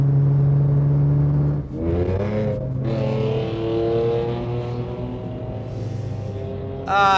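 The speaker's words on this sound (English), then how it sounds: "that Mercedes sounds heinous" A Mercedes car engine idles loudly, then revs up in rising, roaring pulls and drops back, close and harsh, ending with another sharp rev.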